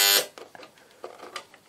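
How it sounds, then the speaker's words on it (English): A restored Fleetwood 1118 clock radio's alarm buzzes briefly and loudly at the start, then cuts off, leaving faint handling clicks and knocks. "The alarm works."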